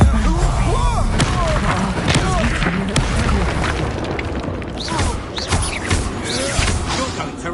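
Spell blasts and explosions from the Hogwarts Legacy video game: a loud, dense barrage of booming impacts, crashes and rumbling that runs almost without pause, with a voice speaking over it.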